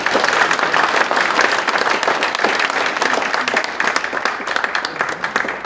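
Loud, sustained applause fills a church assembly hall, dense clapping from a large crowd rolling on without a break.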